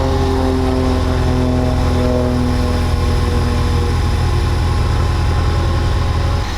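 A 2015 Ford Mustang EcoBoost with a suspected bad turbo runs steadily close by, giving a loud, even engine drone with constant low harmonics and no voices.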